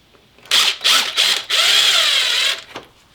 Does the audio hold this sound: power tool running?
yes